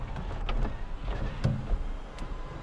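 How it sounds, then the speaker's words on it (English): The one-touch power sunroof of a redesigned 2025 Toyota Camry hybrid slides open with a close, low electric motor whir inside the cabin, marked by a few sharp mechanical clicks. "Let's open this sunroof here. One touch, power open."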